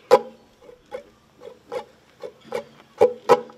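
Muted percussive strums on a ukulele, strings lightly damped by the left hand, give a series of dry, scratchy chops in a steady rhythm, about nine short hits with the last few louder, and no voices over them.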